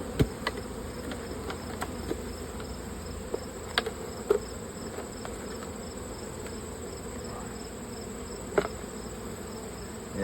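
Honeybees buzz steadily at an open hive during fall feeding, a dense continuous hum with faint occasional clicks and no talk.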